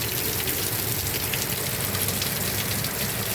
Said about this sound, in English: That cold water, that rain is freezing.